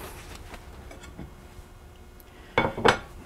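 Goose roasts being moved into a skillet with browned onions, a few faint metallic clinks and scrapes followed by two louder clattering knocks of utensil against the pan near the end.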